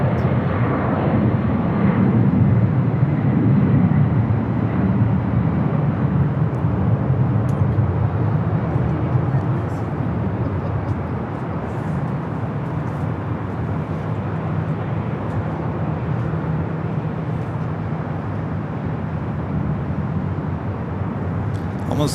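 An Avianca Airbus A320 airliner at LAX airport: a loud, sustained jet roar that is strongest at the start and eases to a steady distant drone, with no voices.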